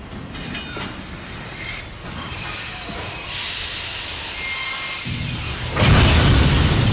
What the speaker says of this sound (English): The brakes squeal and the train lurches